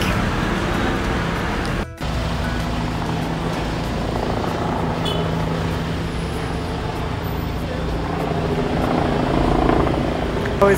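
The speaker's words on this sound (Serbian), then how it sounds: "Ovo iznad nas se čuju helikopteri." Helicopters pass overhead above the old Balat quarter of Istanbul, a steady broadband rotor drone blended with street and traffic noise that swells slightly toward the end, with faint voices in the background.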